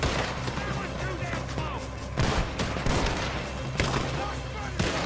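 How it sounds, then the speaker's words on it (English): Gunfire in Red Dead Redemption 2 at night, a chaotic mix of repeated sharp shots and booming reports over a noisy background, with voices heard among the shooting. "I'm over here shooting all over the place."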